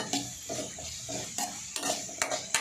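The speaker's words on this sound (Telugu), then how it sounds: "బాగా ఫ్రై చేసుకోవాలన్నమాట." Vegetables for veg fried rice being stir-fried in a pan with chilli powder, a spatula scraping and clinking against the metal in repeated strokes over a soft steady sizzle, close and moderately loud.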